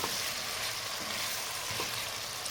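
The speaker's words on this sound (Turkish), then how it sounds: "Yağ sıcak belli oldu ya bulgur girince gider." Steady, close sizzling and crackling of bulgur frying in hot oil, continuous throughout with no voices.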